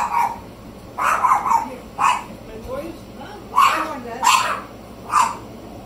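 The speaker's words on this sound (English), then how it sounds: "so the dogs are barking." Repeated dog barking, several barks in irregular bursts at moderate distance, with some quieter whining sounds between them.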